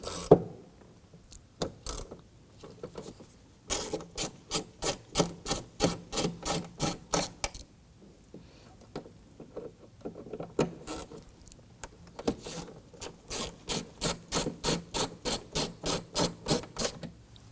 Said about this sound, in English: We're going to use our T25 Torx bit to get in here with our extension.